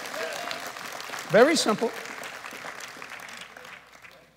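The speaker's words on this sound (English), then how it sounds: "Give Jesus a hand clap for that." A church congregation claps for Jesus during a sermon, a brief patter of applause under a preacher's voice, which swells into a short burst of speech before settling into quieter talk.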